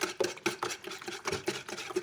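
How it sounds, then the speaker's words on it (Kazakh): Four eggs are beaten with a whisk in a bowl, giving quick, evenly spaced clinking and sloshing strokes, close and fairly quiet, with no voices. "Алдымен ыдысымызға 4 жұмыртқамызды салып, жақсылап араластырамыз"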